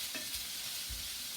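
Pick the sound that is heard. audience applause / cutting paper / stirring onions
stirring onions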